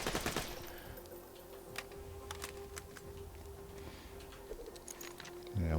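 Rapid gunfire from a fast-shooting, large-magazine weapon in the Borderlands 2 video game: a quick burst of shots opens, then scattered single reports over a steady droning tone, swelling louder at the very end.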